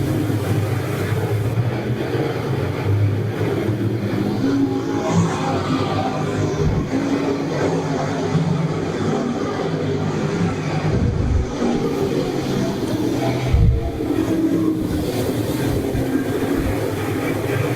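Late model race cars circle Brighton Speedway in a steady, continuous engine drone with a dense roar that barely varies over time.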